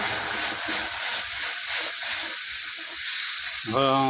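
Onions and mixed ground spices (turmeric, chili, cumin, coriander) sizzle steadily in hot oil for a pigeon meat gravy, a close, continuous hissing fry with faint stirring scrapes, then a brief tonal clatter at the end.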